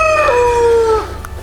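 A rooster in a garden lets out a single loud, close crow that glides downward and breaks off, followed by a quiet farmyard background.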